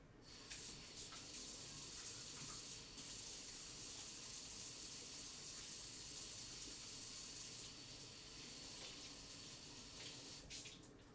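Tap water runs steadily into a kitchen sink while hands are washed, a continuous bright hiss that holds at an even level for the whole stretch, with a faint clatter near the end.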